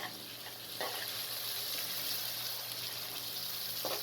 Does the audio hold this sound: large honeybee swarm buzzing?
no